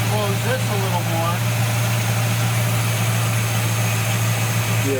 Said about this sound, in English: Our idle's raising higher now, so we can close this a little more.